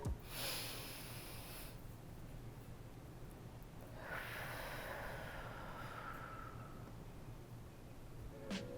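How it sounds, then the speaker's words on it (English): A person takes slow, deep breaths in a quiet room, with a sharp inhale at the start, a long airy breath in the middle and another breath at the end, soft and close with no talking. "Just take a deep breath."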